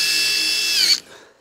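Cordless power drill driving screws into an aluminium bifold door frame in a garden room, a steady high motor whine for about a second that rises slightly in pitch and then cuts off, leaving a brief fading tail.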